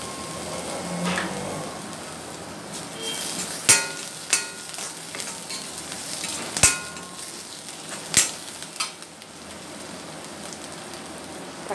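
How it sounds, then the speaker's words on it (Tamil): Onions sauté with ginger garlic paste in an iron pan for potato masala, a steady sizzle broken by several sharp scrapes and taps of stirring, close and without talking. "வெங்காயம் போட்டு வதக்கிக்கலாம்"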